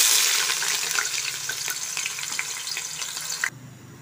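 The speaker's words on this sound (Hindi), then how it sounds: "ऑयल गर्म हो गया, अब इसमें मैं प्याज डालूंगी।" Onions hit hot oil in a pan and sizzle steadily with a bright crackling hiss, close and moderately loud, easing off slightly before cutting quieter near the end.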